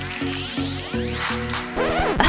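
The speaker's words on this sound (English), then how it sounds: "Now I can blow the yolk out perfectly into the water!" In a cooking video game, an egg yolk is blown out into water with a run of wet, squishy cartoon blurps in quick succession, ending in a rising bubbly slide, close and alone.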